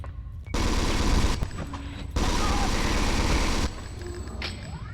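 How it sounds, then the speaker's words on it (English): Rapid machine-gun fire in the PS1 video game Alien Resurrection, two loud sustained bursts of automatic shots separated by a brief pause, with game ambience around them. "now I'm wasting ammo"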